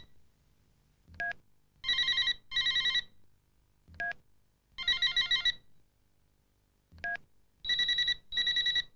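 A series of 1993 Optus mobile phone ringtones being previewed, each a short chime followed by two bursts of bright trilling tones, repeating with brief pauses between them.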